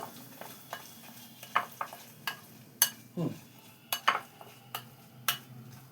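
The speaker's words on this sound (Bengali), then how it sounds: "দেখো সামান্য মাখিয়ে নিয়েছি এটাকে, এই যে সামান্য মাখিয়ে নিয়েছি।" Idli batter mixed with Eno and a little water gives a series of close, sharp spoon scrapes and clinks against a bowl, coming in irregular strokes about once every half second.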